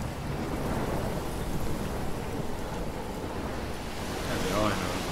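Thunderstorm in the video game Life Is Strange, set in Oregon: steady heavy rain and rumbling wash throughout, swelling slightly near the end, with no speech over it.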